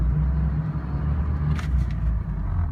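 A 2004 Dodge Ram diesel truck reverses in four-high, its engine a steady, close, low rumble with a brief faint click partway through.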